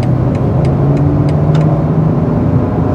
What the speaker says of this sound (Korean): 컴포트에서도 지금 가속 페달 끝까지 밟은 건 아닌데도 불구하고 엔진이 또 사실상 3000cc잖아요